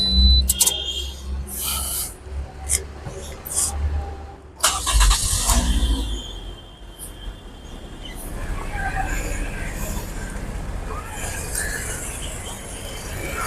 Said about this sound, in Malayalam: അപ്പോൾ ഇനി നമുക്കിത് സ്റ്റാർട്ട് ചെയ്തിട്ട് ഇതിൻ്റെ സൗണ്ട് ഒന്ന് കേൾക്കാം.